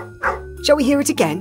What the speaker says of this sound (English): That noise is a dog barking.